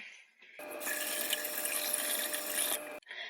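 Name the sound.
water rinsing items under a tap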